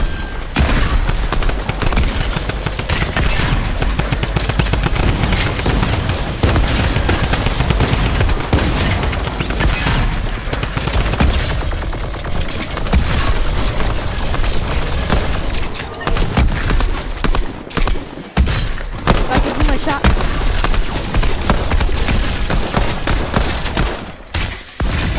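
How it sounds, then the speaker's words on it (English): Sustained rapid gunfire from a minigun in the video game Fortnite, a loud, continuous stream of shots running almost the whole time with brief breaks and a quieter stretch near the end. "Sideways minigun."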